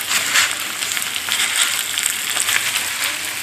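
Minced garlic sizzling in a hot pan while cooking nopales and rice, a steady close hiss of frying oil with faint stirring crackles throughout.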